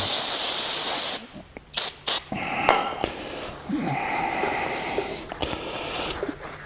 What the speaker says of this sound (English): I'm just going to spray it off with brake clean and clean it up